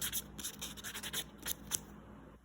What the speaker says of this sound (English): So I'm gonna get all of my nails filed